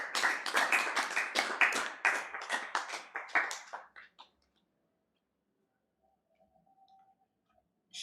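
Church congregation applauding to acclaim the Lord, a dense, lively wave of clapping in rough rhythmic pulses that fades out after about four seconds into near silence with a faint tone.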